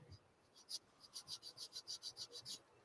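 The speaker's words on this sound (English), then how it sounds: "I'm filing right now" Steady rhythmic rasping strokes from hand filing, about a dozen even passes in a row, fairly faint and close, with no talking.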